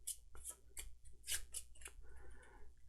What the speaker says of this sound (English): Let's just give the encounter deck a quick shuffle.